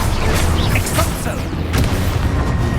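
The Expulso explosion spell in Hogwarts Legacy erupts as a loud, dense roaring blast that fills the whole stretch, rumbling steadily with crackling bursts.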